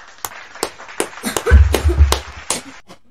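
A few people clap for a band during a reaction session, with sharp, close, uneven claps about every third of a second, and a low rumbling thud in the middle.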